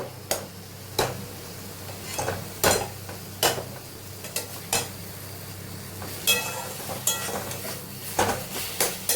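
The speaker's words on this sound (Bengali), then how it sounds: "এবার একটু আস্তা বাড়িয়ে টমেটোটা ভালো করে কষে নেব" Tomato is stir-fried with mutton in a pan over a low sizzle, punctuated by repeated sharp scrapes and clacks of a spatula against the pan at an uneven rhythm.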